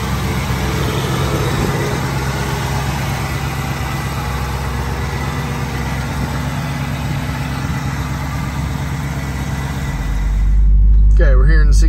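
A 1969 Ford Mustang Mach 1 with the R-code 428 Cobra Jet V8 idles steadily and close by with a deep low rumble, then its volume swells near the end as the engine note rises.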